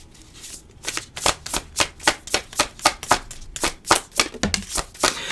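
Tarot cards being shuffled and drawn, a run of about fourteen crisp riffling bursts in a steady rhythm, close and fairly loud, with no talking.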